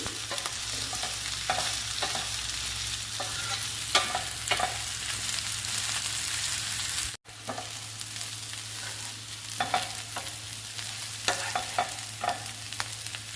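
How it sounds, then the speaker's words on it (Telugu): Ivy gourd (tindora) pieces fry in a pan and are stirred repeatedly, producing a steady close sizzle with rhythmic scraping strokes and a brief dropout midway. There is no speech. "ఇలా వేయించుకోవాలండి దొండకాయ ముక్కల్ని."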